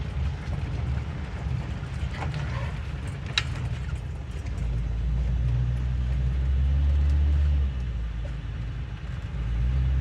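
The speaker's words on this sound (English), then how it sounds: "Idles beautifully." A 1955 Chevrolet Bel Air engine idles with a low, steady rumble, growing a little fuller and louder midway before settling back.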